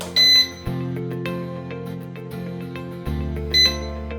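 Two short, high electronic calibration beeps from a GPS drone, one near the start and one near the end, over a steady low hum and faint background music.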